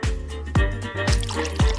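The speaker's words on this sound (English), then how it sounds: "We need to fill the pot with water." Water drips and splashes into a cooking pot in a series of close, distinct drops, roughly two per second, each with a short falling plop, with no talk.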